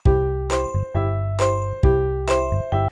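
A bright electronic jingle of chiming tones plays in quick repeating bursts, loud and close, with no talking.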